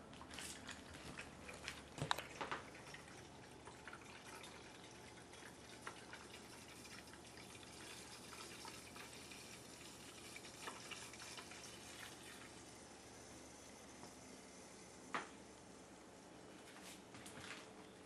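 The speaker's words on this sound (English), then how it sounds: "Hook your siphon hose to the spigot. Turn it on and let it roll." Water runs from a spigot through a siphon hose as a steady, faint hiss that continues throughout with a few small clicks and no voices.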